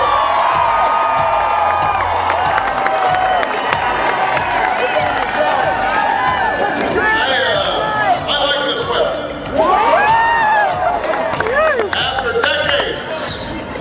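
A large outdoor political rally crowd for Barack Obama cheers and shouts continuously, loud and dense throughout, with swelling roars and excited voices.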